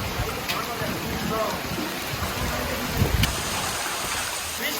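Heavy rain pours down in a dense, steady hiss of drops hitting surfaces, with a couple of sharp knocks and faint voices under the downpour.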